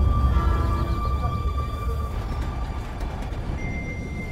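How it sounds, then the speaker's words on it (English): Commuter train interior with a steady low rumble of wheels and motion, faint tonal squeals and beeps above it, continuous and fairly close with no talking. "It's my first time on a commuter train."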